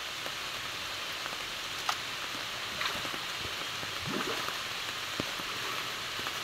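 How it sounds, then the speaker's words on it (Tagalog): Rain falls in a constant, soft wash with a few distinct drops and splashes standing out; no voices are present. "Malakas po ang ulan."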